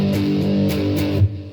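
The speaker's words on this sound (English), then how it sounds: "for those that actually do have electric guitar, what could sound quite cool is maybe add a bit of overdrive so you get this sound" Electric guitar with overdrive rings out in a distorted, sustained chord with a few strummed accents, loud and close, from a cover of a song, with no voices.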